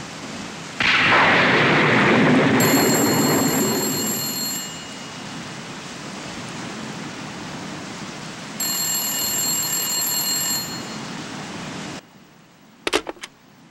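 A telephone rings in the PS2 game Blood: The Last Vampire: two separate electronic ring bursts cut through a steady backdrop of heavy rain and wind. A short click follows near the end as the call is answered.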